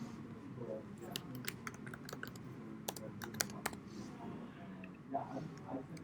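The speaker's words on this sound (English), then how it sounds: "type in your email address" Quiet keyboard typing, with quick bursts of key clicks as an email address is entered into a login form in an app, heard faintly over low room hum.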